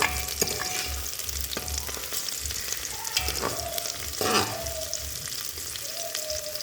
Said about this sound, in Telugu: ఈ ఉల్లిపాయలు అనేది ఇలా మగ్గితే సరిపోతుంది.